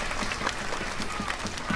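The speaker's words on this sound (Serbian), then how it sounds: "Molim vas, jedan veliki aplauz." An audience at an outdoor children's creative event applauding, a dense steady wash of many hands clapping throughout.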